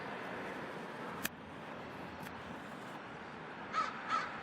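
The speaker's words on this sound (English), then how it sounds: "the crows, they make so much noise" Crows caw outdoors near a backyard feeder stocked with peanuts, with a sharp isolated caw early, another faint one midway, and two louder caws close together near the end over a quiet background.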